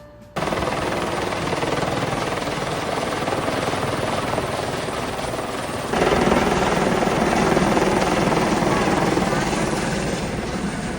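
A helicopter at a balloon festival roars close overhead, a loud continuous rotor chop and engine drone that starts abruptly and grows even louder and denser about halfway through.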